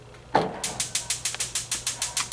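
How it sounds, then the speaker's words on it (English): The gas oven igniter of a 2023 Cyclone 4006 clicks in a rapid, steady series of sharp sparks, about a dozen snaps after a soft initial whoosh, close and fairly loud. "The oven also has its own sparker to light the oven."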